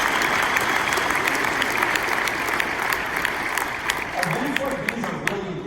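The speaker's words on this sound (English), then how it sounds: "Huge round of applause for you guys." Loud, dense applause from a large audience at the ASPIRE 2024 business event, sustained evenly throughout with a voice faintly emerging near the end.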